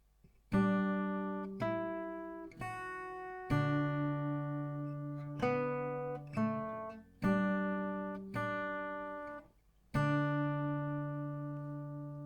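Acoustic guitar played alone, a series of ringing strummed and plucked chords spaced about a second apart, each left to sustain and fade.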